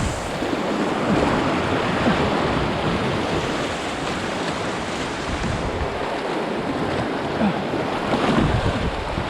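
Water sloshing inside a canoe on a river, a continuous close wash and splashing with gusty wind noise on the microphone, swelling and easing over several seconds without talk.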